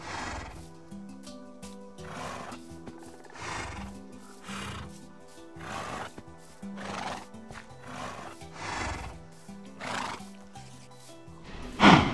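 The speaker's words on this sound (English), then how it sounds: "Horses? No, I don't want to ride a horse." A horse in a Lord of the Rings Shire-building video game neighs repeatedly and clip-clops, loud whinnies recurring every second or so over a steady musical background.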